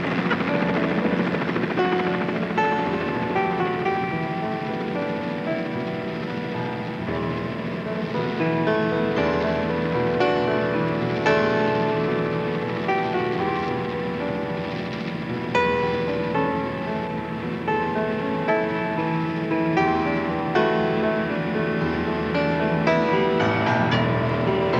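Steady helicopter rotor and engine drone over whale-watching waters, loud and close, continuing throughout with no voices.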